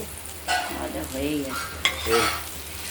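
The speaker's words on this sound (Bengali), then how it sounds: "হালকা ভাজা ভাজা করে নেব" Pointed gourds stuffed with a poppy seed, mustard and green chilli paste fry lightly in a pan, giving a soft sizzle with a couple of brief stirring scrapes close by.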